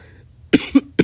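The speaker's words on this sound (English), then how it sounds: "Sorry about that little cough there." A small, close cough in a quiet room, three short sharp bursts spaced a fraction of a second apart after a moment of near silence.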